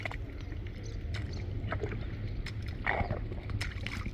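Quiet splashing and gurgling of a rowing boat moving through a creek during oyster gathering, with soft irregular paddle strokes over a low background murmur.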